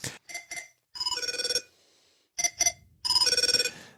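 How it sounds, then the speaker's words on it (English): The ringtone from the TV series 24 chirps in short electronic beeps and longer warbling bursts, a clear melodic pattern repeating twice, close and alone. "The ringtone for 24."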